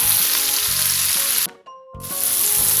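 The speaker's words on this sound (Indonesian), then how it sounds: "Cabai merah, cabai hijau, cabai setan juga udah masuk semua ini. Tinggal diaduk-aduk sampai matang ya." Red, green and cabai setan chilies sizzle and fry loudly in a pan while being stirred for sweet-and-sour gourami, with a brief near-silent gap midway before the steady frying resumes.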